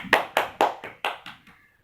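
A classroom group claps for group 1 after their presentation: about six distinct, fairly close claps in an uneven rhythm, fading and thinning out toward the end, with no talking.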